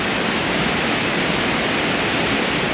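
Rushing water from the main Aling Aling waterfall, a dense, steady roar that fills the whole moment, loud and close with no let-up.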